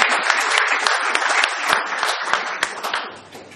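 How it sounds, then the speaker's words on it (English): A lecture-hall audience applauds a guest speaker at a talk on India's civilization, brisk dense clapping close by that tapers off over the last second. "I would request you all to give a round of applause to Mr. Pavan Verma."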